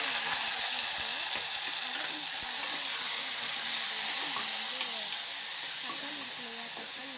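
Onions fry in a pan with a steady, bright sizzle and hiss that stays close and continuous, with a few faint clicks beneath it.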